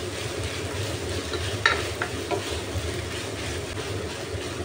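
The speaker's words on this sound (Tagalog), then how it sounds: "Na-fry na yata siya. Halu-haluin ko lang ulit." Ground meat fries in a pan for spaghetti sauce, with a constant soft sizzle and a few scraping strokes of stirring, moderately close, no one talking.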